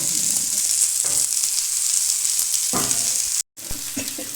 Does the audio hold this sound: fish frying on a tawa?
yes